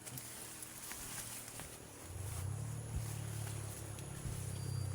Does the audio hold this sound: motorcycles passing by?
yes